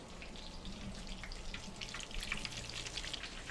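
Chicken fried steak frying in a pan, with a steady, faint crackle and sizzle of oil and scattered pops throughout, no one talking.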